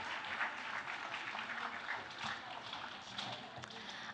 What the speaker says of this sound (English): Let's give a huge round of applause to our incredible performers